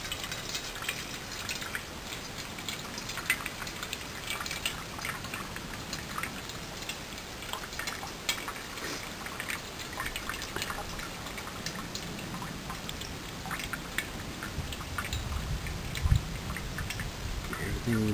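Brown water found outdoors is poured from a container in a continuous splashing, pattering stream that runs steadily for many seconds, close by.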